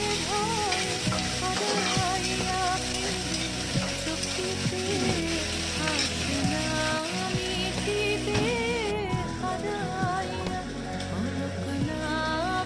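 Dry red chili, a large onion and green chilies fry in hot oil for lunch, a loud, steady sizzle with bursts of crackling and occasional stirring scrapes throughout, no voices.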